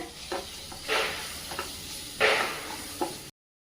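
Spring onion with red chilli powder sautéing in a pan for a chutney, heard as a soft, steady sizzle broken by several stirring scrapes, close and without speech, before cutting to silence.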